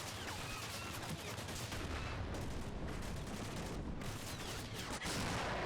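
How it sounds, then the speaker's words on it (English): In the Combat Mission: Cold War game, an anti-tank Dragon missile is fired amid a dense, continuous roar of gunfire and explosions, loud throughout with bursts of crackling shots. "You get the Dragon up."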